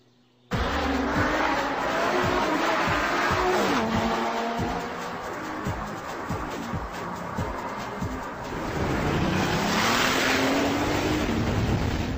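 Lamborghini Gallardo Superleggera driving, its engine loud and close with repeated rising revs and gear changes, a sustained roar that swells again near the end.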